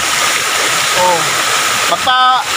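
Lumondo Falls in Alegria municipality sends water crashing down in a steady, loud, close roar that never lets up, with a couple of brief vocal sounds rising above it.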